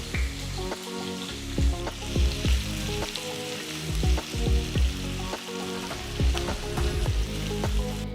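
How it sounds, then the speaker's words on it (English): Onions fry in about three tablespoons of oil in a pan, a continuous crackling sizzle with bursts of popping and occasional stirring scrapes, close and steady. "We're going to fry the onions till they're a nice golden brown color."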